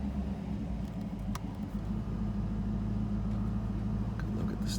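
A 1991 Ford Mustang GT convertible engine with 5,800 original miles idles with a steady low rumble, close by and continuous, with faint clicks over it.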